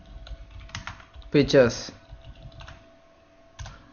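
A computer keyboard is typed on in a short, close burst of clicks, with someone speaking briefly around the keystrokes.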